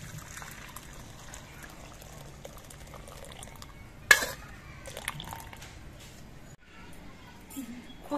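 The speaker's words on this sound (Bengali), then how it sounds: "এবার এই জলটা ঝরিয়ে নিয়ে খোসাগুলোকে ঠান্ডা করে নিতে হবে।" Water poured off boiled green pea pods, a wet splashing and draining of liquid that peaks in a short loud pour midway, heard close with faint kitchen noise around it.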